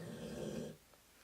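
A sleeping dog snores while dreaming, one low rumbling, growly breath close by that fades out partway through, leaving quiet room tone.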